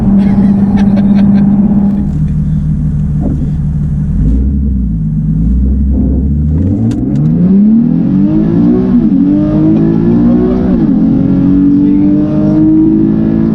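A 380bhp Nissan 370Z pulling hard through the gears, a loud deep engine note that dips and climbs with each shift, heard from inside the cabin with a low steady road rumble.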